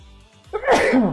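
A single sharp sneeze bursts out near the microphone after a brief quiet moment, loud and close, trailing off over about half a second. It happens during a card game.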